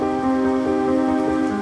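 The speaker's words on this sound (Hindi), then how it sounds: "ये देखो कितनी तेज बारिश हो रही है।" Heavy rain in a Hindi animated story about a poor farmer falls as a steady, dense wash of noise under sustained musical tones, with no voices.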